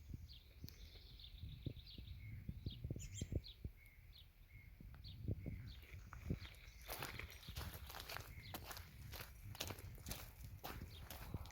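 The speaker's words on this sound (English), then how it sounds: "I like that sound of the gravel crunching underfoot as you walk down a country road." Steady footsteps crunch on a gravel country road at a walking pace, fairly close, while birds chirp softly in the background.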